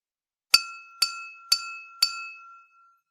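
An empty drinking glass is tapped four times at an even pace, each strike a bright ringing clink that hangs and slowly fades, close and clear in a quiet room.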